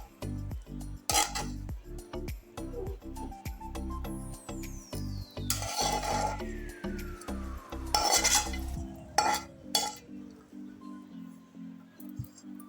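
A spoon scrapes and clinks repeatedly against a metal pan while rice is stirred with tempering, grated raw mango and fresh coconut for pulihora, with steady rhythmic scraping, some soft squishing and a sliding metallic whine.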